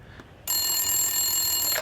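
An indoor telephone starts ringing after a quiet moment. Its bright electronic trill continues steadily and loud until it cuts off near the end.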